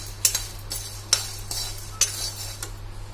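Dried red chillies go into a pan for an ivy gourd curry and are stirred with a metal utensil, giving several sharp clinks and scrapes at irregular intervals over a steady low hum, with no talk.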